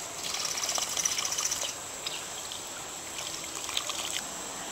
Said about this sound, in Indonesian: Bilas dengan air bersih.